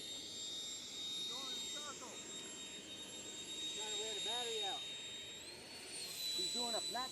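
Flex Innovations Flex Jet model jet at an outdoor fly-in, a steady, loud whining turbine hiss running throughout, with a voice talking over it in the foreground.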